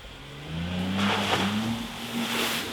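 A light Suzuki Samurai reverses out of peaty mud on a military training ground off-road track. Its engine revs and climbs steadily in pitch, loud and sustained, with a broad hiss of spinning tyres and splashing and no speech.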